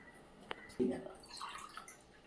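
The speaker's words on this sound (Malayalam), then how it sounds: "ഒരു ഗ്ലാസ് വിനീഗർ ഒഴിക്കാൻ പോവാം" A glass of vinegar is poured into a bucket of water, giving a brief close splash and gurgle that quickly dies away, followed by a soft voice.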